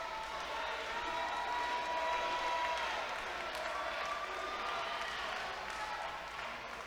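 A crowd at an independent pro wrestling show cheers and applauds at a moderate distance, a continuous, fairly even roar heard under a commentator's voice.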